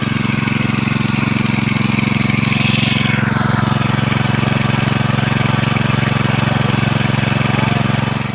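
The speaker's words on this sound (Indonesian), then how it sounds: "Udah diusahakan dipompa pakai mesin." Engine-driven water pump runs continuously while draining floodwater at a tree nursery, a loud, steady mechanical drone with a pronounced low hum throughout, no pauses or change in pace.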